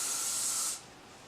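Elnet hairspray fires from its nozzle in a single close, loud, fine hissing burst that lasts under a second, then cuts off abruptly.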